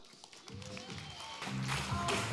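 An audience at a speaking event applauds to welcome the speaker Lizelle; the clapping swells from a thin patter into a broad, steady wash of applause over the final second, with voices mixed in.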